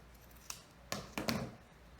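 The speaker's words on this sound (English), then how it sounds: "you will cut the end that's sewn together" Scissors cut the sewn end of a fabric strip: four quick, close snips, the last pair tightly bunched, over a quiet room with no talking.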